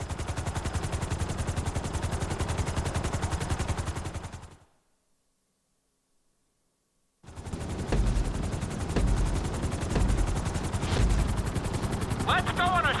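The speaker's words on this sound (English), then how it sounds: "we're gonna put you in a helicopter for this lesson" A helicopter flies in the GTA 5 video game, its rotor and engine making a dense, steady roar. The roar cuts to silence for a few seconds, then returns with heavier low rumbling and rattling bursts.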